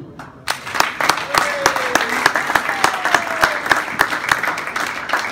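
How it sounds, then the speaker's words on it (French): Lively applause from guests at the annual gathering of a gastronomic brotherhood in La Rochelle, starting after a brief pause and continuing as loud, close, sharp claps layered over a dense clatter. "Ça s'applaudit."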